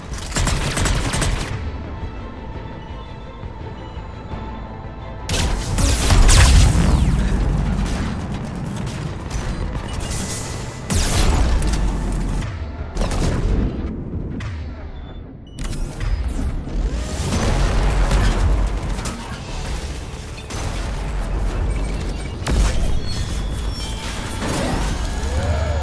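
Heavy cannon fire in Mass Effect 3 Legendary Edition, loud dense bursts of booming and rattling mechanical gunfire that surge, drop briefly and resume across a long stretch with no talking.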